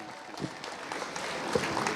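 Audience at a Tax Day rally in Lansing applauds steadily, a dense wash of clapping that holds at even loudness throughout with a few scattered louder claps near the end.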